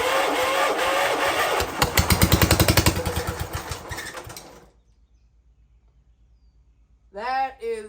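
A 1960s Cub Cadet tractor engine cranks and catches, sputters loudly in a rapid pulsing rhythm for a few seconds, then winds down and stops, followed by someone speaking.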